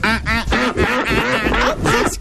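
A man imitates a duck with a rapid run of loud, nasal, raspy quacks right up close, continuous and rhythmic for over two seconds.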